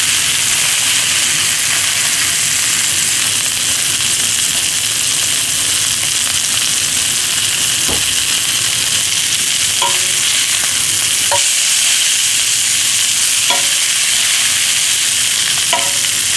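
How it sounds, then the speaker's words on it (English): Short ribs brown in a hot pan with a steady, close, continuous sizzle and frying crackle, with a few faint clicks and no talking. "They're getting nice and brown, sizzling up good."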